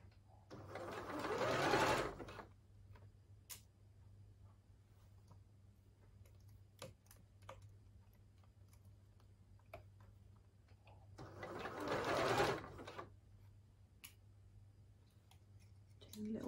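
A sewing machine stitches the sleeve seam of a red Coco dress in two separate bursts, each a couple of seconds of fast whirring. Quiet clicks and handling noises fill the gaps, and a voice talks softly in between.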